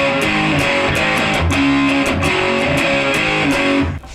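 Distorted electric guitar plays the main power-chord riff of a rock song, with a heavy rock gain tone. Chords are chugged steadily, loud and up close, before ringing out abruptly at the end.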